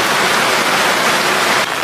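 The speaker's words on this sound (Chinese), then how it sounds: "这雨太大了" A loud, steady downpour of heavy rain hisses without a break, close and all-enveloping.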